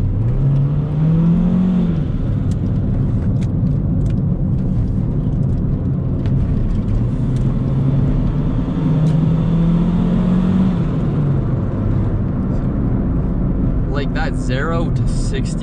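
Turbocharged Honda Civic with a D16Y7 engine driving on the street, a loud steady engine drone rising and falling in pitch as it revs through gears, with someone talking over it.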